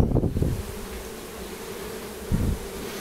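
A steady, low buzz of stingless bees hums continuously, with a few louder swells as bees pass close.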